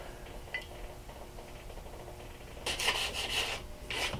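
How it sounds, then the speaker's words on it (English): Faint rubbing in the background, then a few louder rasping strokes of sanding a knife handle near the end, close up with no voices. "just that little bit of sanding, I think baby smooth now."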